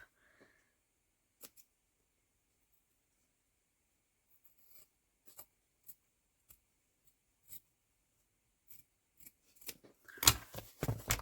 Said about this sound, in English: I just need to trim that little piece off the edge there